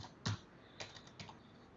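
A password is typed on a computer keyboard as three quiet, separate bursts of key clicks, the first slightly louder, close and alone.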